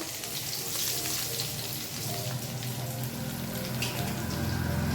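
Cumin, ginger and greens go into hot oil as a tempering, giving a steady, dense sizzle and crackle that holds loud and close for the whole stretch with no voices.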